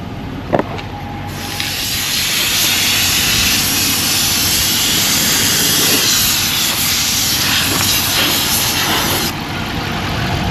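A 5.7 Hemi engine runs at idle after a water pump replacement, a loud, steady roar with a broad hiss close to the microphone, with a couple of brief knocks at the start.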